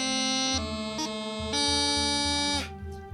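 Great Highland bagpipe moving from B up to C through a grip, with bright reedy melody notes over a steady drone and a quick run of grace-note cuts between the notes. It plays alone and close.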